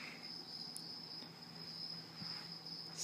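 Recorded cricket chirping plays from a stereo at a small campsite by a fire, a faint continuous high trill over a quiet background.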